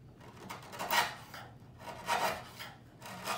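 A hand chisel pares out the corner of a tenon in wood, three rhythmic scraping strokes close by, quiet and without talk.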